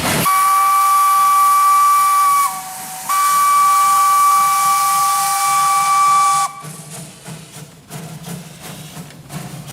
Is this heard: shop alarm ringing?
no